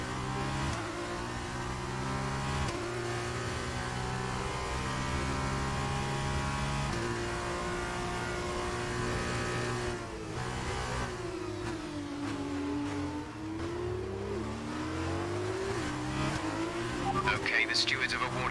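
Open-wheel F2 race car engines in the F1 2019 video game whine steadily at high revs, with falling and rising pitch sweeps as gears shift and the car slows for corners, loud and continuous throughout.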